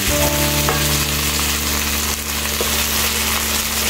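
Fried eggplant sautéing in a pan for binagoongang talong, a loud, dense, continuous sizzle up close with a couple of brief spatula knocks, no voices.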